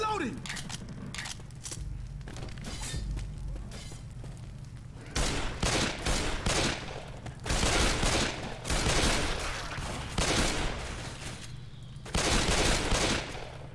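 Dual pistols firing in the zombie shooter Left 4 Dead, with repeated bursts of gunshots spread across the clip, several loud clusters standing out over game noise and occasional voices.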